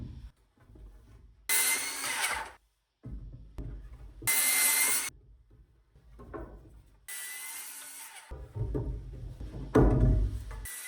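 A saw trims the ends of log floor joists in a sub-zero off-grid build, cutting in several loud bursts of a second or so, separated by quieter gaps with rustling and handling noise.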